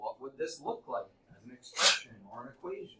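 In a seventh-grade math classroom, a teacher speaks while a single sharp sneeze bursts out clearly in the middle of the talk, loud and close.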